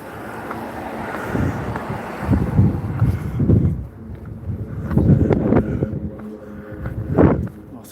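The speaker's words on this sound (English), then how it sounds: "it is rather windy here" Gusty wind buffets the microphone in loud, uneven rushes that swell and fade, with a steady low roar underneath.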